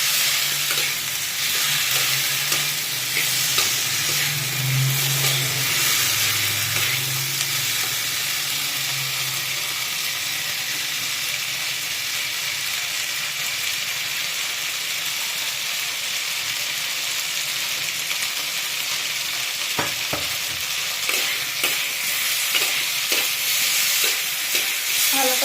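A cauliflower and fish curry is stirred and fried in a pan, with a steady sizzle and scraping spatula strokes throughout, a louder bubbling burst early on and occasional clinks near the end.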